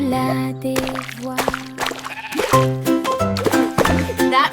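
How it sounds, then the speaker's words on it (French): A sheep bleats loudly and repeatedly in wavering, tonal calls over a children's nursery-rhyme backing, with a brief watery splash sound mixed in. "Il bêlait bruyamment et remuait la queue"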